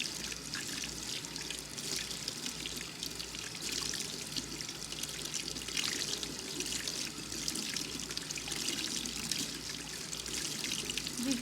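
Running water rinses soap from a pair of beauty blender sponges, a steady trickling pour from a tap that runs without a break throughout, with no talking.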